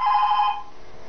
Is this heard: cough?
no